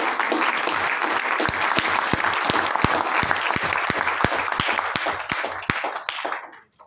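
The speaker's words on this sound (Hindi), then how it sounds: "तालियां अच्छे से बजाओ।" Audience at a conference hall applauding, a dense wash of clapping from many hands with several sharp, rhythmic claps standing out near the front before fading away at the end.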